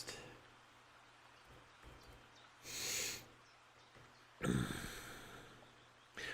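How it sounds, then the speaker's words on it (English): A couple of breathy snorts and sniffs, one longer nasal inhale then a sharper one, close up in a quiet room. "Please excuse my sniffling."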